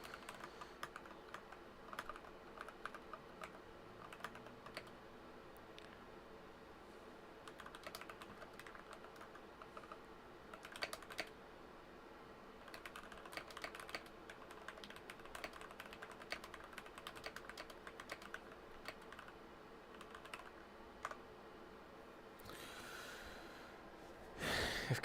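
Steady typing on a computer keyboard, close and quiet, with irregular clusters of key clicks over about 25 seconds and occasional breathing in the background.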